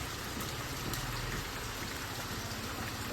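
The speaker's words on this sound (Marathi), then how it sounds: "आता बरोबर घरात आलोय आणि पाऊस चालू झाला आहे" Steady winter rain heard from inside a house, pattering down, a dense even hiss with soft low rumble underneath, continuing without a break.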